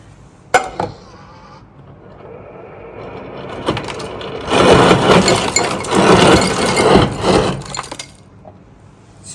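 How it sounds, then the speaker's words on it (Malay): A refrigerator's dispenser releases crushed ice in a continuous rattling rush lasting several seconds. It is loud and close, with a couple of sharp clicks before it from the lever, and no one speaks. "Kalau korang tengok sini, tekan bahagian ais hancur."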